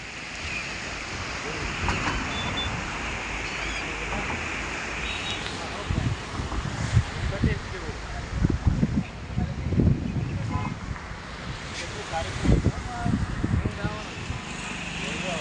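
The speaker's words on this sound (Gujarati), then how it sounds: "કેટલું ફાસ્ટ પાણી જાય જો" Rushing Sabarmati River water in spate roars steadily close by at Saroda near Dholka, a dense broadband wash, with people talking over it.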